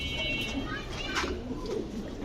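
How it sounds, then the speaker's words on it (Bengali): Black Russian pigeons coo softly in low, rounded calls amid a busy background murmur at a pigeon farm, with a voice speaking nearby. "এটা রাশিয়ান গিদগিদি ব্ল্যাক রাশিয়ান গিটগিটি ব্ল্যাক কবুতর"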